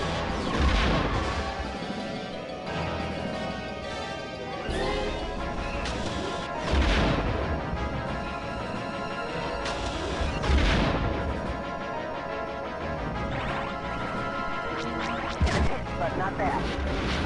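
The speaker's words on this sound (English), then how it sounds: "proton torpedoes." Proton torpedoes exploding in the Star Wars Rogue Squadron video game, heard as several heavy booms and crashes rising out of a dense, continuous bed of game music and effects, with voices talking over the mix.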